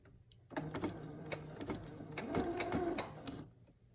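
A sewing machine stitching a straight seam with backstitching on a braided children's headband, a close, steady mechanical whir with clicks, starting after a brief pause and running for about three seconds.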